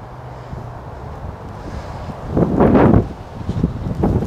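Strong wind gusting across an outdoor disc golf course, a steady low rumble of microphone buffeting that swells into a loud, rough burst midway before easing into choppier gusts.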